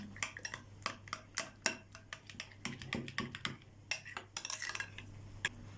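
Yogurt and mayonnaise beaten together in a bowl for a walnut and yogurt celery salad, giving quick, uneven metallic clicks and taps of the utensil against the bowl, close and fairly faint, with no talking.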